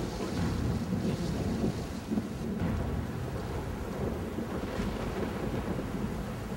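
Thunderstorm effect for a stage play: a continuous roar of rain and wind with low rolling rumbles, loud and unbroken, with no voices.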